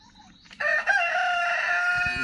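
A male turkey tom lets out a loud, drawn-out call starting about half a second in and carrying on steadily near the listener, with other birds faintly audible beforehand.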